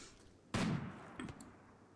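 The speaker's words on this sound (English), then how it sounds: "And that sounded like a gunshot." A single sharp sniper rifle shot rings out in the RimWorld video game, a sudden loud crack with a short decaying tail, followed by a fainter click and a brief secondary report.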